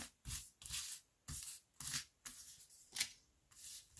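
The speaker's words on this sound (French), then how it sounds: "Donc là, je vais sortir 2 cartes." Oracle cards are drawn from a deck, giving a series of papery swishes and slides roughly every half second, close and fairly quiet with no voices.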